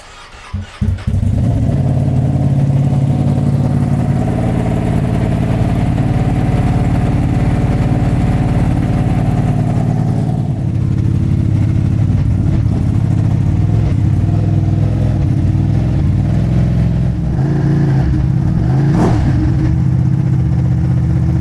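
A Ducati Multistrada 1200S motorcycle engine, prepped for Pikes Peak track use, starts and settles into a loud, close idle, with a few throttle blips and revs rising near the end.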